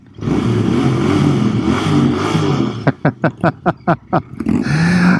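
A Royal Enfield Bear 650 motorcycle rumbles loudly and close at idle, then gives a quick run of about eight sharp, evenly spaced throttle blips before settling back to a steady thrum.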